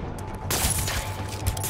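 Bursts of gunfire from enemy thugs in Spider-Man Remastered on PC, a dense loud barrage of shots over a game soundtrack.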